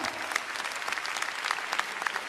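Audience applauding loudly at a New Year comedy show, dense continuous clapping from a crowd with sharp individual claps standing out, steady and close throughout the short burst.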